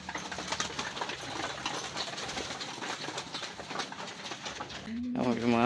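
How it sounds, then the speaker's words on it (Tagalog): Racing pigeons home safely from a race coo and flutter in a loft, a busy, continuous texture of bird sounds under and around someone talking nearby. "Buti ligtas na nakauwi mga ibon natin."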